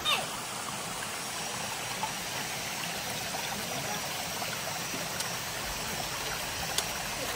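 A waterfall and stream at a picnic spot at KM 5 on Jalan Jayong in Belaga, a steady, even rush of flowing water that holds unbroken throughout, with a faint tap or two on top.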